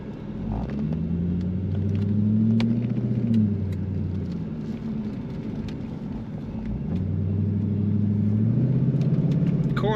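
2003 Chevrolet Corvette convertible, 50th Anniversary edition, driving and accelerating, with a deep engine note rising in pitch through the gears, easing off, then climbing again as the car pulls hard.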